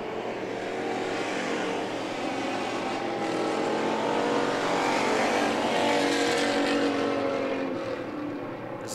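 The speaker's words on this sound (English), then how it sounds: "K9 of Wood out of turn number 4 is going to see the white flag flying" Race cars in a heat race circle Perris Auto Speedway, their engines a continuous loud roar that swells toward the middle and eases slightly near the end.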